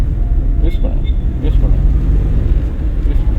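A car accelerates toward 30 during a driving lesson, a low steady engine rumble and road noise inside the cabin, with an instructor talking over it.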